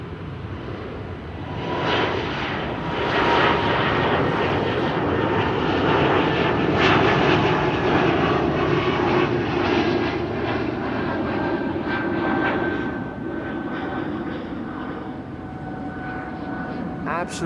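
An ITA Airways Bombardier C Series 100 jet spools up and takes off on runway 09 at Amsterdam Schiphol, a loud, steady broadband engine roar that holds for the whole stretch and swells slightly in the middle.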